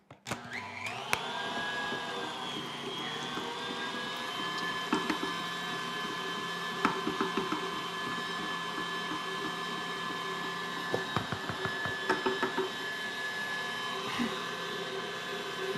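An electric food grinder works raisins in a steady, continuous mechanical whir, with occasional small clicks and knocks over the drone.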